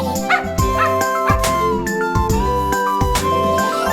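Repeated short dog barks and yips pop out over a bright, steady musical melody, coming in quick bursts throughout.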